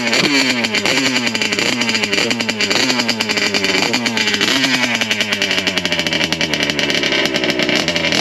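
Petrol-powered RC car with a 35cc or 55cc engine, a Rovan SLT or Losi 5ive-T 2.0 build, revving repeatedly under light throttle blips, loud and close with a buzzy, motorcycle-like rasp rising and falling in quick pulses.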